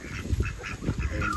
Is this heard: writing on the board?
no